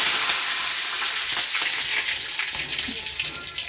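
Mustard seeds, cumin and curry leaves fry in hot oil with a moderate, continuous crackling sizzle and scattered sharp pops, no talking.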